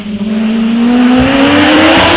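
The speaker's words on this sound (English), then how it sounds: "Mike Lee with the Force LM03 motorcycle powered supercharged engine" A Force LM03 hillclimb race car with a supercharged motorcycle engine screams close by on a British hillclimb course, its engine note rising steadily as it accelerates hard, loud and alone for about two seconds.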